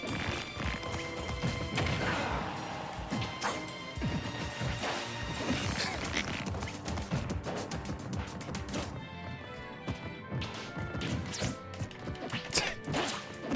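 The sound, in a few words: forward smash attacks hitting in the Smash Ultimate video game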